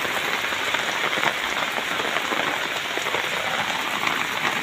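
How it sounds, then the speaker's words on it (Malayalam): Heavy rain pours down steadily outdoors, a dense, even patter of drops hitting surfaces close by, constant and fairly loud throughout. "തകർപ്പ മഴ തകർത്ത് പെയ്തുകൊണ്ടിരിക്കുകയാണ്."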